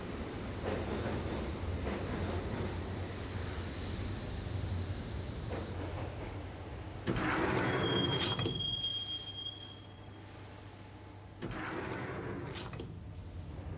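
A subway train in Max Payne rides toward Roscoe Street Station: a steady loud rumble of rolling cars, with a long metallic wheel squeal rising midway and then easing off into the running noise.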